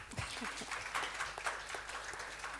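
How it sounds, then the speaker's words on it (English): Faint, brief applause from members in a parliamentary budget debate in Namibia, scattered clapping at a distance under the room's background murmur. "she deserves a round of applause"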